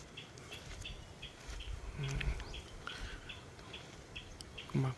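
Birds sing on a farm: faint, high chirps repeat at intervals over a soft background hiss and some low rustling, with no clear talk.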